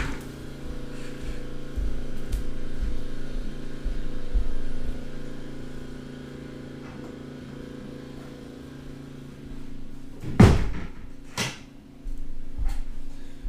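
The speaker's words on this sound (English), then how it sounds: "Let me shut the door." An indoor door shuts with a single sharp thud, followed by a couple of fainter knocks, over a steady low hum from a lawnmower running outside.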